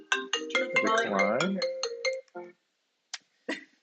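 A phone ringtone plays a short melodic jingle up close, loud and clear, then breaks off into a couple of brief clipped tones as the call is declined.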